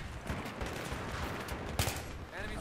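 Battlefield 3 battle din: continuous distant gunfire crackling under a steady rumble, with a sharper thump of a mortar impact near the end, moderately faint, and faint voices mixed in.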